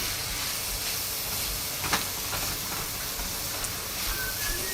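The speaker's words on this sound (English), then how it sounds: "I'm gonna go ahead and add my sliced celery also. Get that cooking." Sliced celery sizzling in a hot wok while Chinese fried noodles stir-fry: a steady, even hiss of frying that continues throughout, with a few faint clinks and scrapes and no talking.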